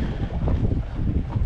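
A southerly wind blowing at sea around a small boat with an electric motor: a steady, loud rush and rumble with microphone buffeting and the wash of water beneath, no voices.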